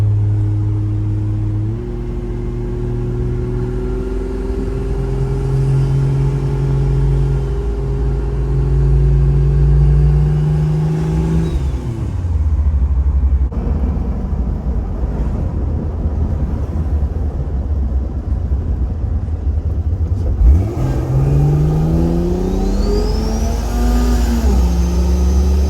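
A 2JZ-swapped Jeep Cherokee engine, loud and close, climbing steadily through the revs, then dropping back and roaring up again as it is driven through downshifts, with a heavy low rumble throughout and no talking.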